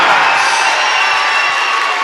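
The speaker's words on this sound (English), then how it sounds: "Please keep the round of applause going for a fantastic opponent, Rich Taylor" An audience applauds and cheers after a boxing decision, a dense, loud wash of clapping and whoops sustained throughout.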